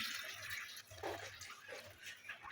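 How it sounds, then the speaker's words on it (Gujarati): About a glass of water poured into a pressure cooker holding drumstick pieces and coriander stems for soup; a soft, steady splashing pour, fairly faint, with no one talking. "હવે એમાં 1 ગ્લાસ જેટલું પાણી ઉમેરીએ"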